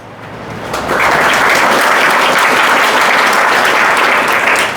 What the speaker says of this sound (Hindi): ठोको ताली कहना ना पड़े तो तालियां ठोकते ही रहना है